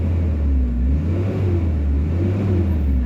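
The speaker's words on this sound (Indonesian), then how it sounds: "kita lanjut coba gas untuk mesinnya gimana suaranya" A 2000 Toyota Taruna CSX engine idles and revs with a deep, steady rumble that swells gently in a few slow surges, close and continuous with no talking.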